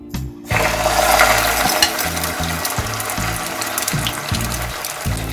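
Potato mixture poured into hot oil sizzles and crackles loudly and steadily from the moment it hits the pan, a close, continuous frying hiss with a few soft scraping knocks, no voices.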